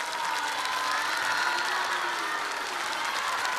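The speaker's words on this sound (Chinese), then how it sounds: "谢谢您各位的掌声啊！" A theatre audience at a Deyunshe crosstalk (xiangsheng) show gives dense, sustained applause, an even wash of clapping with faint crowd murmur that holds steady throughout.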